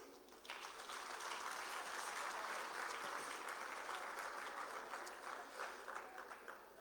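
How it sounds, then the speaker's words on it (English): A large audience at the closing ceremony of Global Expo Botswana 2025 applauds the BITC team, a steady, dense wash of clapping that rises quickly and holds for several seconds. "I would like, in a very, very special way, to applaud the BITC team for a wonderful work that is done"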